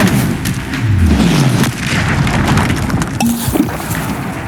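Confringo fire spell blast in the video game Hogwarts Legacy, a deep booming explosion with a rumbling low-end thud that swells early and decays into a lingering roar, followed by a smaller crackling impact.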